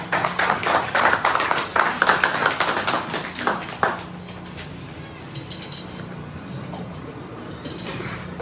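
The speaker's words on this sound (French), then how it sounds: "On applaudit, mesdames et messieurs, consulat général d'Haïti, Elvire Bouchard." Audience applause at a Haitian consulate tribute to the Racing Club Haïtien in Boston, a dense burst of clapping that fades after a few seconds and gives way to quieter scattered claps and room noise.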